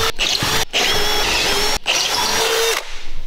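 A power drill with a step drill bit whines loudly through metal in two long bursts with a short pause between, the pitch shifting as the bit bites, then cuts off.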